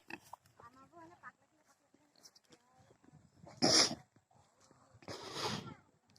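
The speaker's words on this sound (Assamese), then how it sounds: "গাহৰি ফাৰ্ম" Pigs at a pig farm let out two loud, harsh squealing bursts a couple of seconds apart, with quieter grunting and people talking nearby.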